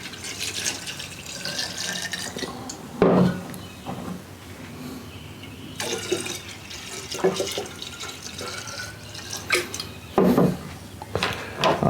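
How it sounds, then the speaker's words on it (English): Water poured into homemade silver rum to proof it down, a splashing trickle with pauses and louder bursts, plus a few clunks of containers, close by with no talk. "I'll probably have to add more water than that."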